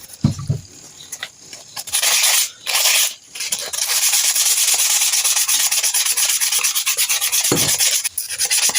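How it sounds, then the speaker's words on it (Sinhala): Sandpaper rubbed by hand over the front parts of an electric fan being repaired near a bushing: a loud, steady rasping scrub that starts in short strokes, then runs nearly continuously with brief pauses. "අපි මේ ඉස්සරහා ටික වැලි කඩදාසියෙන් ඇල්ලුවොත් වැඩේ ගොඩක් ප්ලේසි වෙනවා"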